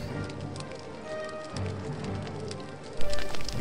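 Rain in a Harry Potter video game makes a continuous hissing patter with scattered droplet ticks, ending in a few louder thumps.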